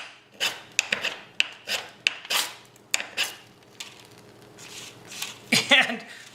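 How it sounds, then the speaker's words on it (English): A knife blade scrapes the black coating off a ferro rod held over a small tin pan, giving a series of sharp, rasping strokes close up, several quick scrapes followed by a softer steady rub and a final burst. "I'm going to scrape some of the black coating off."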